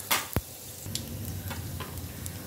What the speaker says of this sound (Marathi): लसूण टाकलेला आहे, आता उलट परत करूया, लसूण मस्त उलट परत करूया